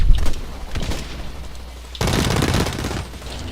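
Rapid gunfire in the shooter game Blacklight Retribution: loud bursts of automatic shots, a brief lull, then a dense fusillade with booming impacts, no speech over it.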